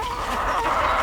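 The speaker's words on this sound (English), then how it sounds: "oh, there's a lot of chickens here." Chickens cluck at a farm where a greenhouse and animal enclosures are being built, several birds close by in a steady, continuous chatter with no talking.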